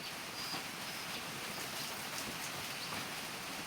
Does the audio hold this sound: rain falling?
yes